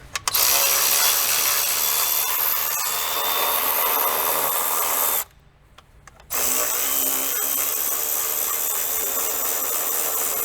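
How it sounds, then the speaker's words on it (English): A ratchet fitted with an 8mm socket loosens the lower intake bolts on a Jeep Cherokee with a 3.2 or 3.6 Pentastar engine, giving a steady, loud clicking that pauses briefly partway through before resuming, with no speech. "we will use that same 8mm socket setup and get all of our lower intake bolts loose"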